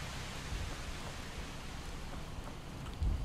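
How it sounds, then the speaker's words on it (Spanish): Steady rain hisses in the Project Zomboid video game, a dense, even wash of drops with a faint low rumble at the end, no voices. "Entre la lluvia y el frío..."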